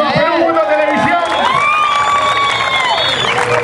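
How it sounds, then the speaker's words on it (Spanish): A crowd at a hip hop event in Los Olivos cheers, whoops and shouts, loud and close, with a wailing voice rising over the noise and some clapping mixed in. "Fuerte aplauso a Perú Mundo Televisión."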